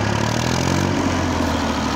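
A Massey Ferguson 35 tractor engine idles steadily up close, a continuous low, even rumble with no talking.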